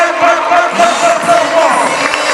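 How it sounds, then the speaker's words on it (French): A school audience at an education debate event cheers and claps loudly, a dense continuous crowd roar filling the short moment. "Applaudissez très"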